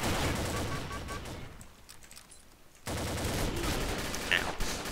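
Bursts of MAC-10 SE submachine gunfire in the shooter game Combat Arms, dense rapid fire that drops away for a moment and then resumes, loud against the game's background noise.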